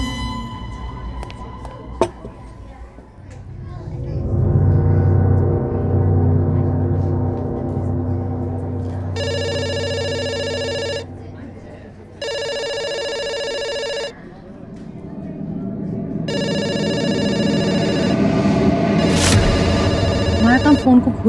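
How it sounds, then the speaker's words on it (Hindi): A telephone rings in a pizza shop, its electronic bell tone coming in three distinct bursts separated by short pauses, loud and close over a swelling eerie music background. "फोन को घूरना नहीं, फोन उठा के ऑर्डर लेना।"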